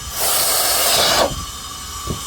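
Loud, steady rush of air blowing from the cooling system of an air-locked Mercedes 124 coupe 320 CE for about a second, then dropping to a quieter constant whoosh, close and without talk.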